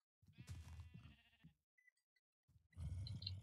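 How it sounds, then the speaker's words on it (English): Sheep bleating in Minecraft, a few short game bleats in two bursts separated by a near-silent gap, fairly close and clear with no talk over them. "Okay, we got sheep here."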